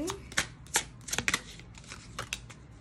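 Tarot cards being shuffled for a reading: a run of crisp, close flicking and slapping riffles in irregular bursts, with brief soft touches between them.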